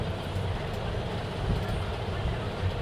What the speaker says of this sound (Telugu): ఇంకా ట్రైన్ అయితే వెళ్తూ ఉంది ఫ్రెండ్స్.